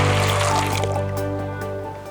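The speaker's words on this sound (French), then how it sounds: "on va rajouter de l'eau bien fraîche" Cold water pouring onto soybeans set to soak for traditional Korean fermented paste: a continuous close trickle and splash that gradually tapers off over a loud steady hum.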